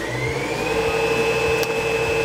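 A Baby Lock Sashiko sewing machine runs under foot-pedal control, giving a steady, even mechanical hum with a constant whine and a faint repeating low tick from the stitching action throughout.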